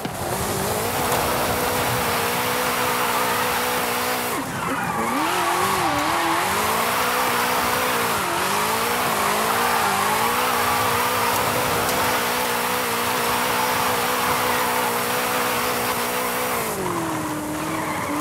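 A 2015 Ford Mustang GT drifting in Forza Horizon 5 on a Mexican course: a sustained engine drone with wavering pitch as revs rise and fall, layered over continuous loud tire squeal and skidding.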